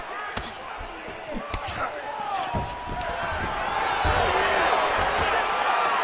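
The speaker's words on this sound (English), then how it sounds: "Slams him right to the canvas" A fighter slammed to the canvas in the UFC 3 video game: sharp thuds and impact hits over a crowd murmur at an arena, with commentators talking throughout.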